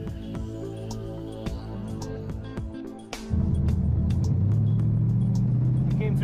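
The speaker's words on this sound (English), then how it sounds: "built a super muscle car, replica race car, and it's a little loud" A street-legal stock car replica built from an old Mercury Marauder idles with a deep, lumpy rumble, then the engine jumps to a much louder, sustained roar partway through, close and alone.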